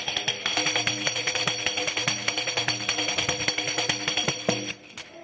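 A traditional tambourine with tinplate jingles is struck and shaken in a fast, steady rhythm, bright metallic jangles over regular thumping beats, close and continuous until a brief trailing rattle at the end.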